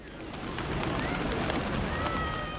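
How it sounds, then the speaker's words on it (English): White pigeons cooing in the courtyard of the Blue Mosque shrine in Mazar-e-Sharif, Afghanistan, soft repeated coos and bird calls over a busy outdoor hum, moderately near. "And the white pigeons of Mazar are part of it."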